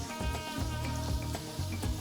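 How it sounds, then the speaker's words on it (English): Tortillas fry in hot oil for beef enchiladas, giving a soft sizzle and crackle. It sits fairly quietly under a rhythmic musical backing. "Another reason we're frying the tortillas is we're gonna pass them through the chili sauce"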